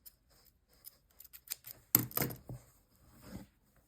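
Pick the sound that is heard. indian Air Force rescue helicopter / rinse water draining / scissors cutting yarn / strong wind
scissors cutting yarn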